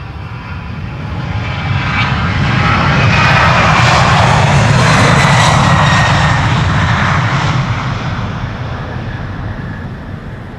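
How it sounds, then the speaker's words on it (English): A United Boeing 767 jet passing at Amsterdam Schiphol's Polderbaan runway, its engine roar swelling to a loud peak mid-pass and then fading away, with no talk. "it is time for another 767"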